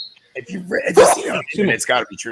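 A single sharp sneeze bursts out amid casual conversation during a football watch party, with people talking before and after it.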